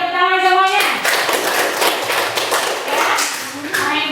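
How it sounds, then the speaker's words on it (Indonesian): A class of students clapping their hands together, a dense patter of claps starting just after a short tonal voice and continuing evenly, fairly loud and close. "Tepuk tangan semuanya."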